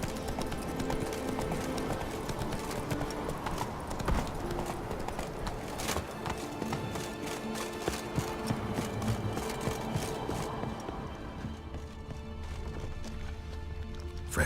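Roach, the horse from The Witcher 3 video game, gallops with rapid, rhythmic hoofbeats held steady and close throughout, along with faint ambient game sounds and a brief sharp accent near the middle.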